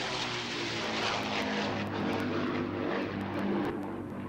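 A de Havilland Mosquito, a wooden aircraft powered by two Merlin engines, flies past at an air fair, giving a steady, loud, broadband engine roar that holds throughout with slight swells.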